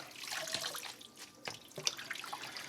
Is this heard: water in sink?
yes